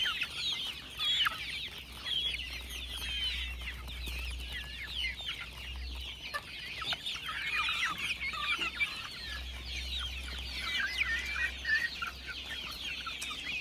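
A flock of farm chickens cluck and chatter steadily while eating feed, a dense, continuous murmur of overlapping clucks over a low rumbling hum, with no speech.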